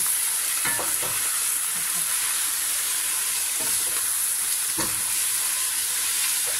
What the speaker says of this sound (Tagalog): Lagay ang karne ng baka na mince. Tapos, halo-haloin.